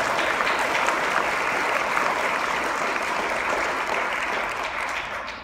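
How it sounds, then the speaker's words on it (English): Sustained applause from a large theater audience at an Elvis tribute show, dense clapping that holds steady then gradually fades at the end. "have a round of applause for the staff here at the theater"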